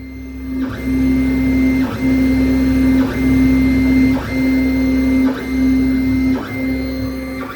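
3D printer with a 4 mm stainless steel nozzle printing filament, a loud, steady whining motor hum that dips in a regular rhythm about once a second as the head changes direction.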